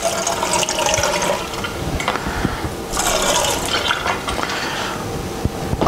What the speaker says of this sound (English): I'm going to dump this in the sink.